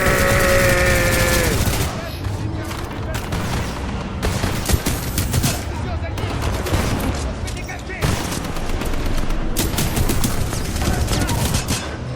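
Sustained automatic gunfire in Titanfall 2, a dense loud run of bursts lasting until the weapon runs out of ammo, with game sounds around it.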